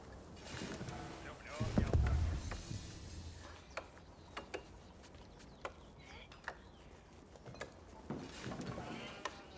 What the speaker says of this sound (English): Good, he's finding sheep.